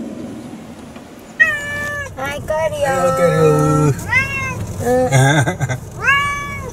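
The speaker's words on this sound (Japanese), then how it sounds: "猫が乗ってます。" A pet cat on an end-of-trip spring cherry-blossom camping outing meows repeatedly and loudly up close, long drawn-out cries in a series, while a person talks over them.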